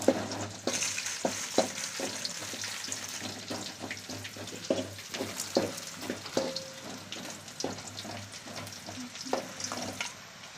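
Jackfruit chips deep-frying in hot oil for a second time bubble and sizzle steadily, with a ladle knocking and stirring in repeated clacks, and no voices.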